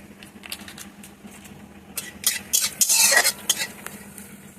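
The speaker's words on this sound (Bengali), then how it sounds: "এবার একসাথে মশলাটা ভেজে নেব।" Turmeric and chili powder masala with ground paste, raisins and tomato stirred and fried in a pan for a vegetarian dish, with faint sizzling under repeated spoon scrapes that build into a louder burst of stirring midway, close and without talk.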